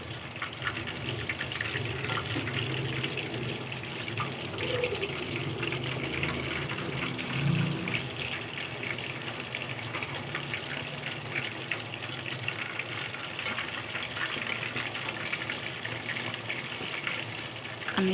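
Fish coated in spicy masala fries in a pan after being flipped to its second side, giving a continuous close crackling sizzle that stays even throughout, with no talking.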